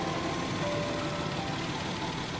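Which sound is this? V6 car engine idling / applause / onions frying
V6 car engine idling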